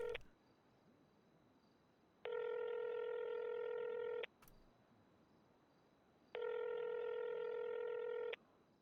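A phone call rings out on the line: two long, steady ringback tones separated by a couple of seconds of near silence, with no voices.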